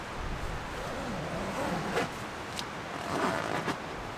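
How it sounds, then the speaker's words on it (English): A tent zipper is drawn closed during a heavy rainstorm, with short scratchy zipping bursts over a steady wash of rain and wind. "I can actually zip this up."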